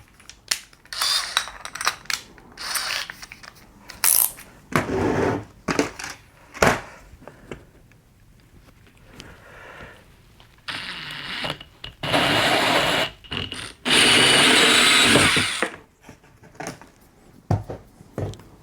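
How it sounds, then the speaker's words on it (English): A 1 1/8 inch hole saw cuts a hole in an enclosure box in harsh, gritty bursts of grinding and crunching that stop and start, with the longest and loudest runs near the end. "I'm going to use an actual hole saw, and this is a 1 1/8 inch hole saw"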